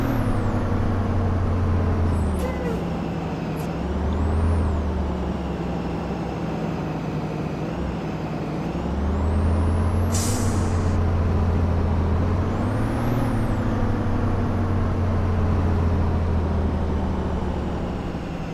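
A bus driving in Rigs of Rods, with a steady droning engine and gear whine throughout and a short sharp hiss of air brakes partway through, heard alone without talk.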